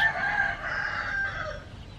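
A rooster crows once in a drawn-out, nasal call that holds steady and then trails off, heard at moderate distance alongside a busy roadside near a bus stop in Thailand.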